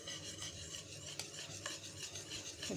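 A whisk stirs flour into caramel cake batter in one direction, making a quiet, continuous scraping and swishing close by, with a few light clicks against the bowl and no talking.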